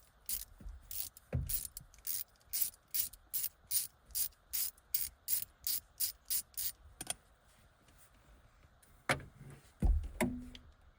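A ratchet undoes a transmission bolt on a 2001 Dodge Ram 2500 with an NV4500 gearbox, giving a quick, even series of about sixteen crisp clicking strokes, followed by a pause and a few metallic clanks.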